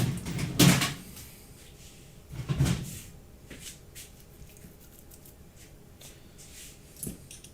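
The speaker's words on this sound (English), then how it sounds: "look for my little Allen key that I dropped into a drawer full of keys" Hard metal clatter of a drawer packed with keys being rummaged through: two loud bursts of jangling and shuffling near the start, quieter scattered clinks in between, then a final sharp knock, with no talking.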